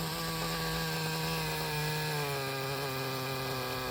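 A fairly new Traxxas Revo 3.3 nitro engine on an RC truck idles steadily and close up, a buzzy, constant drone with a strong steady pitch and no talking over it.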